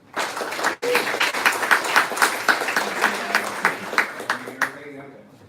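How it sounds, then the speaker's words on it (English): An audience applauds in a welcoming burst for a UX researcher from SwiftKey at a tech talk, with dense steady clapping that fades toward the end, with some voices mixed in. "So please welcome him with a big applause."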